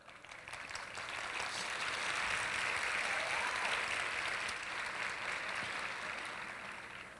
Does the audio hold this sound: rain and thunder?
no